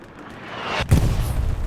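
A single heavy artillery blast in Hell Let Loose, a sudden loud boom with a rumbling tail, preceded by rising ambient battlefield noise.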